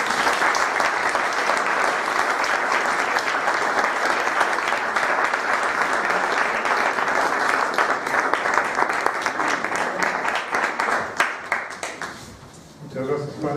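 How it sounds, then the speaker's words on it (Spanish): Listeners at a lecture on religious freedom and the secular state give sustained, dense applause that carries on steadily and loudly before tapering off, with a voice emerging as it fades. "Un aplauso, por favor."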